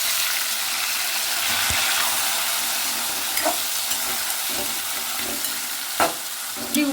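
Tomatoes dropped into a sizzling tempering in a pan give a loud, continuous close sizzle and hiss, broken by a few soft knocks of stirring.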